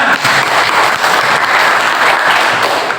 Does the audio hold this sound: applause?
yes